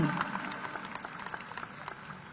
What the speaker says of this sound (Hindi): मैं चाहूंगी कि गुरुजी के चरणों में एक बार जोरदार तालियों के साथ हम अभिनंदन करें